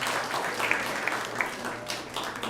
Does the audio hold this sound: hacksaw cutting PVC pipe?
no